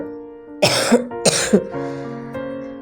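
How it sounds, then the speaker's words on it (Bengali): A person with a cold gives two harsh, close coughs with throat clearing, then a softer rasping breath, while a quiet steady hum sits in the background. "খুব কাশি হচ্ছে ঠান্ডাও লেগে গেছে জোর"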